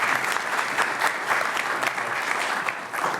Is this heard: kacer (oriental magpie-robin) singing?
no